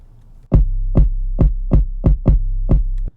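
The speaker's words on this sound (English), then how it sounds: "So we'll mute this bass so you can hear it with the kick." A deep bass note plays together with a kick drum in a remix, eight punchy low thumps in a steady rhythm, loud and alone.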